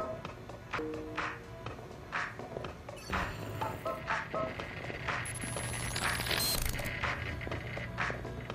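A bank of 3D printers runs in a Watch Dogs 2 headquarters scene, clicking, ticking mechanical whirs and rhythmic taps with occasional high pings, heard under intermittent talk.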